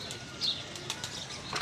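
Pigeons released from a rooftop flap their wings in a close, fluttering burst, with faint cooing and chirps around them outdoors.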